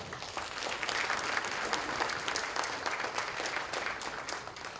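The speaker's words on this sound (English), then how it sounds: "A big round of applause for everyone" A seated crowd at an elected officials' summit claps in a brisk, full round of applause, close and sustained without voices over it.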